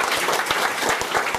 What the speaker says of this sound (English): Come on, clap for yourselves.